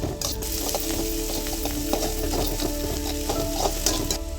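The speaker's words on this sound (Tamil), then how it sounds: "அது கொஞ்சம் வதக்கி விட்டுக்கலாம்" Vegetables sauté in a pan for street-stall style egg noodles, a steady, close sizzle and fry with scraping stirs and light clinks throughout, no voices.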